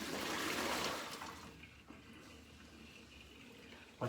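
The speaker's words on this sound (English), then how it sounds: "Let's just tip this water away" Water tipped out of a washing-up bowl pours in a soft, fairly faint splash that lasts about a second and a half, then thins to a quiet trickle and room hush.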